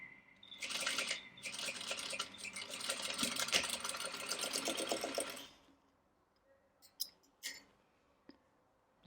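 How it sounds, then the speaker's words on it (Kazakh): A sewing machine stitches summer sun-protection gloves in a loud, fast, steady whirring run of about five seconds, then stops, leaving a few faint clicks and small handling knocks. "мен бұны осылай тігіп жіберу керекпін"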